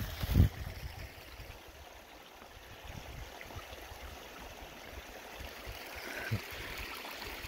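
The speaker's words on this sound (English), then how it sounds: "found this beautiful little mountain stream" Gentle continuous rush of a small mountain stream with a little waterfall, steady and close, with a soft thump near the start.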